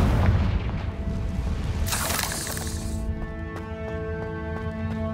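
A Confringo fire spell in the video game Hogwarts Legacy bursts with a deep boom and a bright crackling flash, then fades into a ringing magical shimmer with evenly spaced chime-like pulses.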